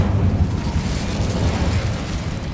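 Incendio fire spell cast in the Hogwarts Legacy video game, a loud sustained fiery roar and rumble with dense low-frequency crackle, steady throughout without any talking.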